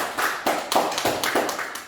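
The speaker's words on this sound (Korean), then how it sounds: "박수 한번 칠까요?" A classroom group applauds after a student presentation in a measurement design class, a short burst of about eight distinct claps in an uneven rhythm, close and clear with no talking.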